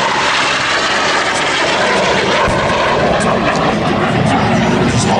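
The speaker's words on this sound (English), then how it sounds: "So the jets that are going by here" Jets, L-39s among them, pass by at an airshow, a loud continuous engine roar that holds throughout with someone narrating over it.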